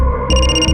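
A telephone rings loudly and close, an electronic trilling tone starting partway through over a steady background hum.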